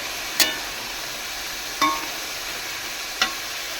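Chicken meat sizzles steadily in a hot pan, with three sharp scraping knocks of a utensil stirring it at roughly even intervals. No talking.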